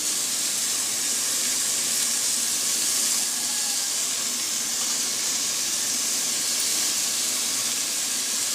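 Chopped carrots, beans, potatoes and peas hit a hot pan for white vegetable pulao, raising a loud continuous steamy hiss that holds steady for several seconds with no talk.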